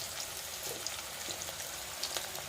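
Cumin and mustard seeds crackle in hot oil, with steady sizzle and scattered tiny pops spread evenly through the whole stretch, fairly quiet and close, no talking.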